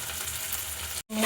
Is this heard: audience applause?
no